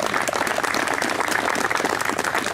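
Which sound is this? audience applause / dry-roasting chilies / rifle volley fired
audience applause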